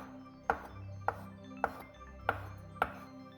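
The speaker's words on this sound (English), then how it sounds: "Boil 2 eggs in advance and cut them into cubes as well." A knife chops boiled eggs into cubes on a board, five crisp separate knocks spaced about half a second apart, close and clear.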